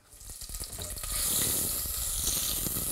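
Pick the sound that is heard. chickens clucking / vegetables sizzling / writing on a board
vegetables sizzling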